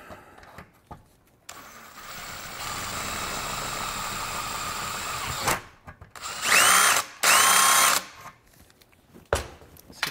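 A power drill bores a hole for a bolt through an aluminum roof rack, with thick aluminum sheet metal slid underneath; after a quiet lead-in come a steady low grind and then two loud, high-pitched bursts of cutting, close by.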